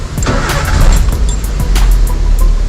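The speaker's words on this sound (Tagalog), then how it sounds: "So start natin yung engine." A Daihatsu Sirion with a K3-BE engine and a misfire fault is started and idles, its low steady engine rumble close and continuous with faint clicks above.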